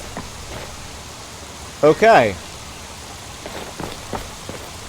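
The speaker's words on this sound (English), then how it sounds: "That is a torrential downpour." Heavy torrential downpour in modded Skyrim (Nolvus), a steady hiss of rain throughout, with someone briefly speaking over it.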